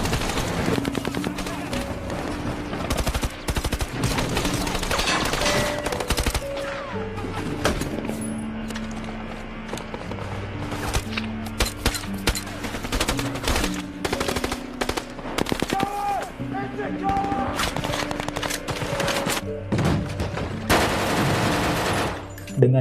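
Dense, continuous automatic gunfire and bursts of shots fill a close-quarters battle between a SWAT team and ISIS fighters, loud and relentless, with faint voices underneath.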